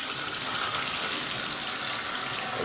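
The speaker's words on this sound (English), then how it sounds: "Now we'll run the water." Water runs steadily from a bathtub spout in a newly built bathroom during a final plumbing check, a continuous hissing gush with no pauses.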